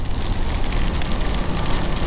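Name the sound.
heavy rain while riding a motorcycle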